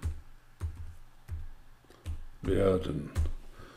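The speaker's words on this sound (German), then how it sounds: "Ich habe auf Neuer Kommentar geklickt und dann schreibe ich rein" A computer mouse clicks and a keyboard taps in scattered strokes while a comment is entered in Microsoft Word, with someone speaking German over the short, dry clicks.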